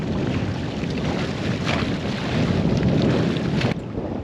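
Strong wind buffets the microphone beside a boat at anchor near Lizard Island, a steady loud roar with gusting swells and no voices.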